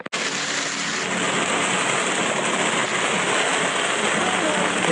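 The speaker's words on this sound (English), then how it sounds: "It is pissing it down, bro. Fucking so bad. Torrential rain." Torrential rain pours steadily and loudly onto a parked car, a dense continuous roar of drumming water with no break across the whole stretch.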